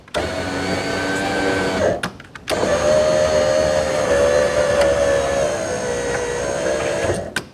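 A car power window motor, recently repaired after the window stuck, whines loudly and steadily as the glass travels. It pauses briefly with a clunk, then restarts for a long run before stopping.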